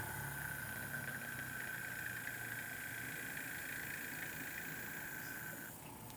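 A newly replaced electric fan motor runs steadily, with a continuous whirring hum and a high whine that stays even and close, with no talking.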